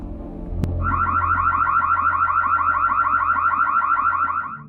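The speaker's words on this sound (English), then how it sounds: "then triggers the siren alarm." A doorbell camera's siren alarm blares at a doorstep, a loud rapid warbling electronic tone that starts abruptly after a click and pulses steadily for several seconds without pause.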